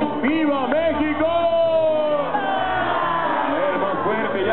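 A crowd at Xcaret chants ¡Viva México! in unison, many voices joining in a loud, dense, echoing shout that holds steadily throughout.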